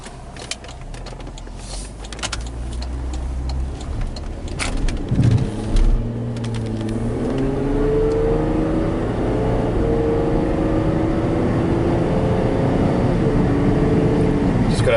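A 2005 Cadillac CTS with a possible misfire is driven, starting with faint cabin noise and a few clicks, then the engine drone rises and holds a steady, fairly loud hum as the car accelerates and cruises.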